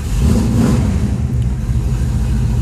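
A 1968 Ford Mustang with an S code engine rumbles with a deep, steady low-end idle, loud and close, parked outdoors in snowy winter conditions with no one speaking.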